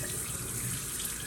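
A kitchen faucet with its aerator set to shower mode sprays water onto a plate, giving a steady, close hiss that runs unbroken throughout with no talking.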